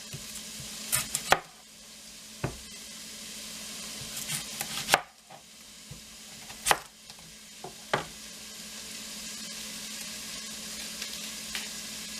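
A knife chops an onion on a cutting board in a handful of sharp, irregular taps, with a soft sizzling hiss in the background and no talking.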